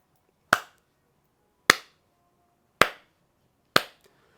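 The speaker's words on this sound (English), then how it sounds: "Let's get a nice slow clap for her." Four slow, deliberate hand claps, evenly spaced about a second apart, each one sharp and close with a short decay, in an otherwise quiet room.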